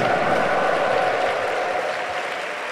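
A church congregation at a Mass for the feast of Saints Peter and Paul claps in sustained, dense applause that fills the whole stretch, steady and fairly close before easing slightly at the end.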